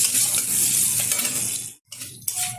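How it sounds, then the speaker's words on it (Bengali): Onion, garlic and green chili fry in a pan, a steady bright sizzle with stirring scrapes, cutting out briefly near the end before the frying resumes. "খুব ভালোভাবে পেঁয়াজ রসুন আর লঙ্কাটা আমি ভেজে নিয়েছি"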